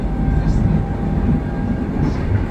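A train rumbles at Sintra station in Portugal, a loud, steady low mechanical roar with faint squeals, heard up close without talk.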